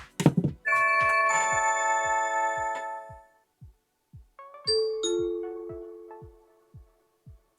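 An Amazon Echo smart speaker plays a melodic electronic chime alert for a Blink video doorbell press, bright tones sustained then a second shorter chime, with faint rhythmic ticks underneath.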